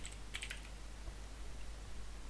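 A computer keyboard gives a short quick burst of faint keystroke clicks, then falls to near silence over a low hum.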